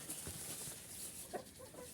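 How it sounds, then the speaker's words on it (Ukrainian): Faint clucking of chickens in the distance, a few soft bird calls over a quiet outdoor hiss. "ну от кури роблять галум"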